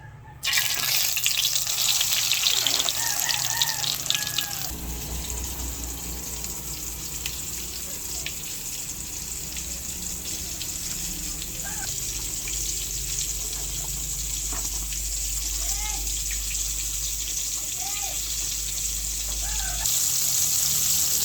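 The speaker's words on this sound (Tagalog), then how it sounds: "Ayan, at mainit na po yung ating mantika. Atin na po ilalagay yung pakoy." Pakoy fish frying in hot cooking oil, a steady broadband sizzle that swells louder as the fish goes in and holds continuously, with faint kitchen clinks and bubbling beneath.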